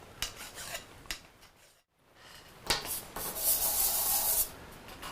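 Abrasive rubbing as a quick sanding lap breaks the sharp edges of a metal part for a steam wagon build: scratchy strokes, a brief pause, then a longer, louder stretch of sanding.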